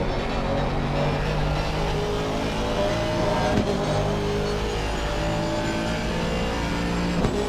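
A BMW turbo race car in a GT sim-racing game at Silverstone drives at a loud, steady high-revving engine drone, with harmonics holding near-constant pitch and a faint shift blip around the middle.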